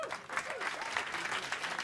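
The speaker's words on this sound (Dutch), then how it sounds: "Applaus voor Wiebe, dames en heren." Audience applause for Wiebe at a water championship event in Leeuwarden, a dense steady patter of clapping from a crowd with faint voices mixed in, short and fairly quiet.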